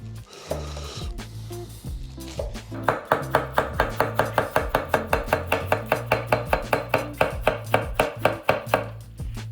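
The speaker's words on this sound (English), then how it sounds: "I'm going to shred some iceberg, which is the blandest lettuce I could find for this dish." A knife shreds iceberg lettuce on a cutting board in quick, steady strokes, a run of crisp, evenly spaced chops close up and alone after a few scattered cuts at the start.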